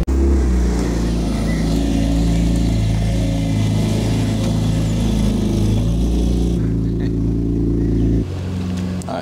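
A loud, close car engine built by Max runs steadily and rises with revving. It drops suddenly to a lower idle near the end, and faint talk sits under the engine noise.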